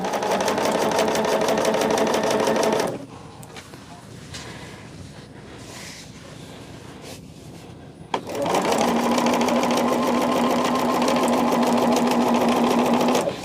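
Sewing machine with a dual foot stitching fabric, a loud steady whir running in two long bursts separated by a few seconds of quieter pause, close up.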